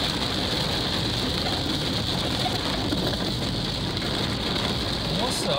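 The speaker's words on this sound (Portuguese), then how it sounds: "Banho de chuva, banho de chuva." Rain falling during a Christmas road trip, a steady dense hiss of drops on surfaces heard close and constant throughout, with a faint engine hum underneath.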